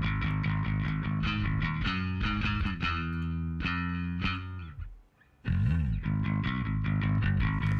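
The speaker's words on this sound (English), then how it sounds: "I've put this on the 456 tape on the slower speed setting" Electric bass line played through a 456 tape machine emulation set to the slower tape speed, a loud, saturated sustained riff in a mix context with a brief dropout near the end before resuming; no talking.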